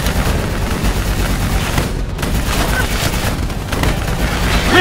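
Rapid gunfire aimed at a VTOL aircraft during a Call of Duty Black Ops III battle, dense overlapping shots and booms forming a continuous loud barrage with no clear pauses.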